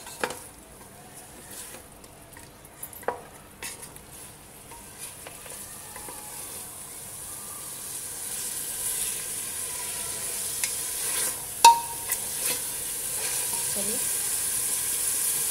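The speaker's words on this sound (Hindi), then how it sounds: "इसे 1 से 2 मिनट ऐसे ही भूनना है जिंजर गार्लिक पेस्ट के साथ।" Mutton with ginger garlic paste frying in a pan, destined for a mutton and bottle gourd curry: a soft, steady sizzle with a faint hiss, occasional light stirring clinks and one sharper utensil knock.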